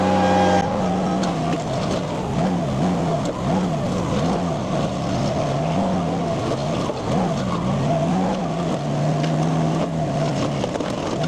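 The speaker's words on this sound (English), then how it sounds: "You can really hear the engine change cadence once it gets up to full rotation." A Chinese mini skid steer's heavy engine roars continuously at high revs, its pitch rising and falling in waves as a forestry mulcher head spins under load, loud and close.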